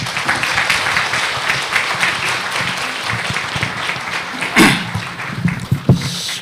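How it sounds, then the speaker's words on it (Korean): A conference audience applauds a keynote speaker at a National Assembly Library international conference, dense clapping throughout with a few sharper knocks and thumps near the end. "여러분 큰 박수 부탁드립니다."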